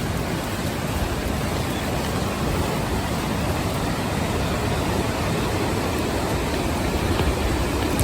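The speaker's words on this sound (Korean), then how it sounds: "외돌개가 가까워질수록 파도 소리가 우렁차게 들렸다." Loud, dense roar of ocean waves crashing against the rocky coast at Oedolgae on Jeju, a continuous broadband wash of surf without pauses, heard close and without voices.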